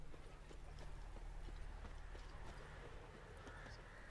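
Horses' hooves clip-clop quietly and steadily in the video game The Witcher 3, Blood and Wine, near the knights from Toussaint. Faint, even hoofbeats sit over a low background hum.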